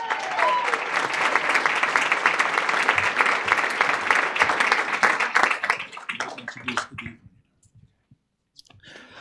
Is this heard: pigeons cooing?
no